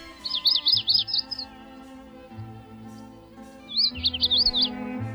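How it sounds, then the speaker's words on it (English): A magnolia warbler sings two bright, quick phrases of high chirping notes, close and clear, separated by a pause over a faint low musical background. "Setophaga magnolia, the magnolia warbler, today's Talkin' Birds featured feathered friend."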